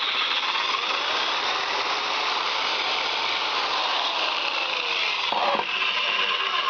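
Electric drill running continuously at close range, a steady whining motor drone with a faint rattle and a brief shift in pitch near the end, with no talking.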